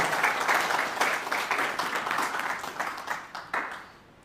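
A crowd at a community gathering applauds to welcome a speaker, a dense wash of clapping that holds steady for a few seconds before tapering off into quiet.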